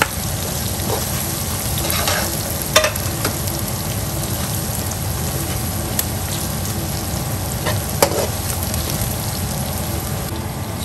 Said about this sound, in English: after 2 minutes of frying green chilies and curry leaves and garlic